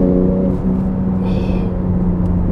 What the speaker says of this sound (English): You get those crackles and pops on the downshifts and the overrun.